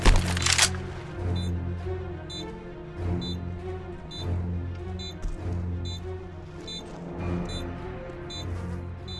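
Bomb planted in Counter-Strike during a live FACEIT Major match in London, with a regular faint high beeping tick repeating at steady intervals over continuous game noise and crowd rumble.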